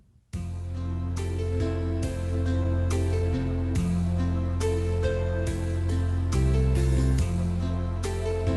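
Soft keyboard accompaniment style, Soft and Easy Guitars at tempo 70, with a gentle guitar pattern, steady chords played at an easy, relaxed tempo, with no voices.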